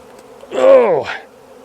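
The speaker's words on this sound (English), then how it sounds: "I love standing in a swarm." A honeybee swarm clustering on a kudzu vine outdoors gives a brief, loud, close buzz as a bee passes the microphone, rising and falling over about half a second above a faint background hum.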